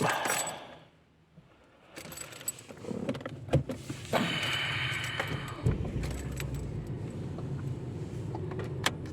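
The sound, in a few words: car engine starting and driving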